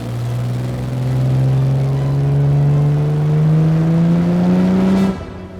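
A 1964 Aston Martin DB5's engine drones steadily close by, its pitch slowly climbing as it accelerates, then cutting off abruptly near the end.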